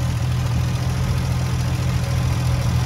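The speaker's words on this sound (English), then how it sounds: "with the engine ticking over at 850 RPM" Triumph TR6 engine idling at 850 RPM, a loud, steady low rumble heard up close with an even, continuous throb and no talking.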